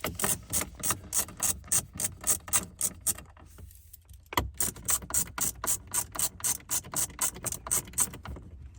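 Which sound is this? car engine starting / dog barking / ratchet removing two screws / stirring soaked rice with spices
ratchet removing two screws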